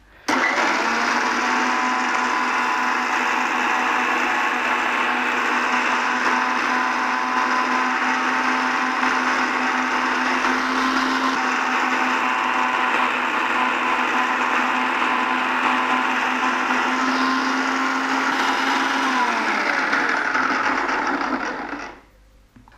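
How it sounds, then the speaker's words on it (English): A 9-in-1 food processor with its citrus juicer attachment runs steadily on fresh Mozambique fruit, a loud continuous whirring motor hum lasting about twenty seconds before cutting off and winding down. "now I am going to switch it on, and I have a fresh Mozambique cut it ready so that I am going to use it for"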